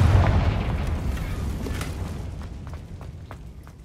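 A Confringo fire spell explosion in Hogwarts Legacy, a single deep boom that rolls out and decays over a few seconds with scattered crackles in the tail.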